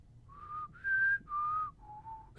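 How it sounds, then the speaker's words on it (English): Four short whistled notes, clear and close, each held briefly with small pauses between, rising then falling in pitch. "You know, whistling is hard."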